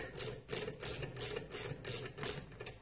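Screws being backed off on a Newage CPST pin Brinell hardness tester kit, giving a steady run of about eight ratcheting, clicking mechanical bursts in an even rhythm, close and fairly quiet with no talking.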